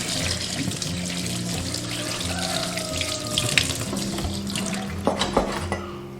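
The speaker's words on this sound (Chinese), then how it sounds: "我们先把鸭肉清洗干净，这个脖子这边的淋巴一定要给它清洗干净" Tap water runs steadily into a kitchen sink while a whole duck is rinsed, a continuous close splashing stream with occasional knocks and clinks of handling, no talking.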